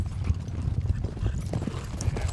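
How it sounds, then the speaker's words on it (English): Hooves clip-clop in a steady, rapid rhythm as a herd of horses runs during a Western horse drive, moderately close with no talking. "Fun to watch the horses run, watch those cowboys work."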